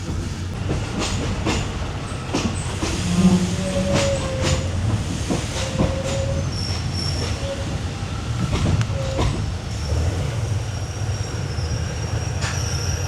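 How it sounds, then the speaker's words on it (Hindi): A slow-moving general passenger train on a day trip from Bangkok to Ayutthaya, heard from inside: a loud, steady rumble with rhythmic wheel clatter, faint squeals and hiss throughout, with no talking. "ये ट्रेन काफ़ी रुक के चल रही है।"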